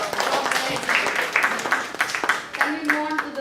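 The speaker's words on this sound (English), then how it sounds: "A round of applause to both the ma'ams." Audience applause at a medical institute workshop, a continuous spread of many hands clapping with voices and talking mixed in.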